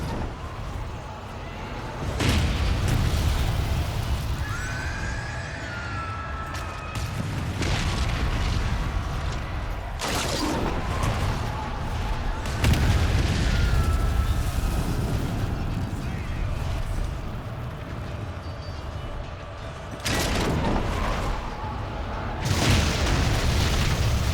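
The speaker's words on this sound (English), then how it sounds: "Fire the catapults! Destroy them now!" Catapults fire and their shots explode on the battlefield in Lord of the Rings Conquest, a run of heavy booming impacts recurring every few seconds under a continuous din of battle, with voices shouting over it.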